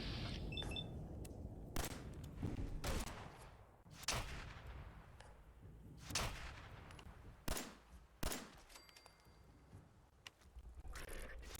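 Gunfire in Fallout 4 aimed at bloodbugs: a string of sharp, loud shots spaced irregularly over steady background game noise, with no talking.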